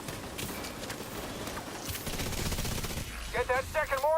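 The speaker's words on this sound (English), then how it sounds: "Get that second mortar firing, Corporal!" Mortar and gunfire from a military video game battle, a busy mix of repeated blasts and shots with a voice speaking near the end over the noise.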